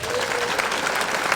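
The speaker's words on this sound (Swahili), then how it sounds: "Wapi makofi ya Charles?" Applause rising from a gathered crowd in Kiharu, Murang'a to welcome a young man named Charles, a steady dense patter of clapping lasting the whole moment with no break.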